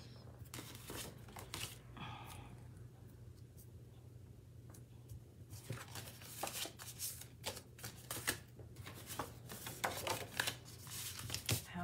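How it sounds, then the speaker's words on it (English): A paper thank-you card for fall being folded by hand at a crafting table: quiet, close paper rustles, creases and scrapes, sparse at first and busier toward the end. "I'm going to go ahead and fold the card while I'm doing that"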